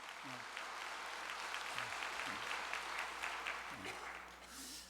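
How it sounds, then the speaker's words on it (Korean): A church congregation gives a round of applause at an evangelism rally, a soft, steady patter of clapping that stays faint and fairly distant, with a few brief voices speaking over it. "두 분을 위해서 박수 한번 보내겠습니다"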